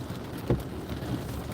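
Steady rain patters on a car during a night drive, a continuous soft hiss with a single louder thud.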